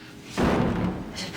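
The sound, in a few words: battering ram slamming into a door, from The X-Files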